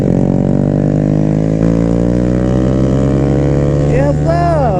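Big-bore Honda Grom motorcycle with a Hindle exhaust held at full throttle, a loud steady engine drone with a slight rise and fall near the end, heard up close over road and wind noise.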